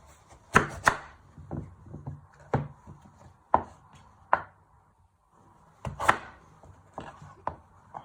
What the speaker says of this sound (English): after when you have peeled your sweet potatoes, you chop it in half